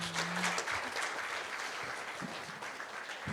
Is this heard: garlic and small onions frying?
no